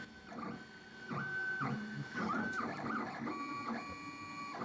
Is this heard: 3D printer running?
yes